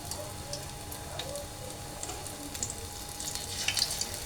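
Snacks fry in a pan with a soft, continuous sizzle and crackle, faint and close, with small pops and a spoon clinking now and then.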